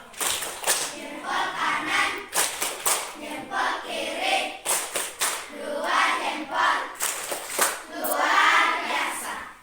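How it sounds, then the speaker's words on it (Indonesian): A school class doing tepuk jempol, a rhythmic group clap routine in which bursts of clapping alternate with children chanting together, loud and close in a classroom. "sebelum kita memulai kegiatan kita, tepuk jempol dulu. Ya, tepuk jempol."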